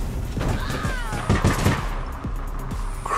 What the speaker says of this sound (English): Oh, sniper rifle, that's why.